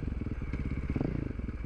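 A 530 supermoto motorcycle, freshly rebuilt engine, rides with a rapid, throbbing single-cylinder pulse close to the microphone, a steady rhythmic thump with some clatter.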